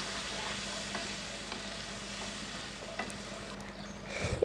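Shrimp and sweet pumpkin fry and get stirred in a pan, giving a steady, moderate sizzle with occasional scraping knocks. It runs continuously without talk.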